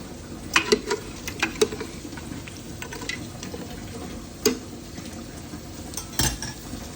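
A utensil scrapes and clinks against a pot while goat head curry is stirred, with several sharp metallic taps over a steady background hiss, close and moderately loud.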